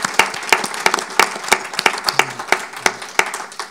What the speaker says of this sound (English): So if we can maybe just give them a big round of applause.